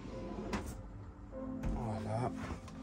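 A soft-close drawer in a 2020 Carthago i51 motorhome interior glides shut by itself with a few quiet knocks and a muted thud, while someone talks over it.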